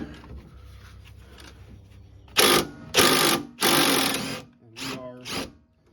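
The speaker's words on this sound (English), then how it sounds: "We're now going to try removing that 14mm with our impact" Impact wrench loosening a 14mm bolt on a rear shock absorber of a 2013 ninth-generation Honda Civic, heard as four or five loud, close bursts of whirring and hammering, the longer ones lasting about a second.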